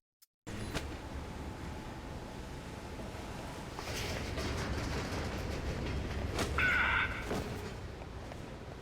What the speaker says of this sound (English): Trains are pretty loud here.